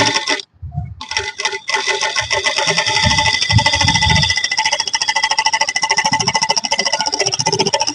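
A sewing machine stitching kurti fabric, its motor whirring steadily after a brief stop-start at the beginning, then settling into a fast, even, rhythmic stitching chatter, close and fairly loud.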